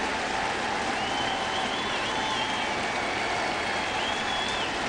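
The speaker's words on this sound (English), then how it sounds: "Another nice applause and well-deserved for So Taguchi" Baseball stadium crowd applauding and cheering for a pinch runner at a Phillies–Cardinals game, a steady broad wash of clapping and crowd noise throughout with faint whistle-like tones above.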